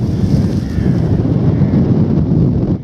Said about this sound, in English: Wind's picking up as well, which doesn't bode well.